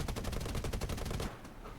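Rapid gunfire from the War Thunder combat video game, a dense, fast rattle of repeated shots for about a second before it cuts off, fairly faint and heard alone.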